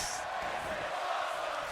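Roaring Philly arena crowd cheering in WWE 2K24, a steady dense wash of noise with no breaks through the short stretch.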